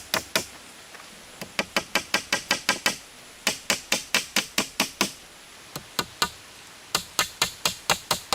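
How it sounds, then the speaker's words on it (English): A hammer drives nails into a wooden awning frame on an off-grid hillside cabin, with steady, sharp blows in quick bursts separated by brief pauses, close and loud. "A hammer drives the first nail."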